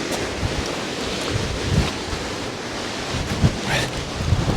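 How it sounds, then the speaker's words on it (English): Strong storm wind buffets the microphone in rough, uneven gusts while fishing, roaring and swelling with no voices present. "that wind is gusting. Absolutely gusting."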